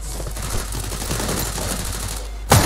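Gunfire in the Free Fire mobile game played on PC, a steady dense crackle of shots running under the game's background audio, ending with a sharp, louder burst near the close.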